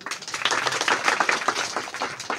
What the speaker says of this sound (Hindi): मैं चाहूँगा कि सब लोग एक बार सोनू बाबू के लिए ताली बजाएं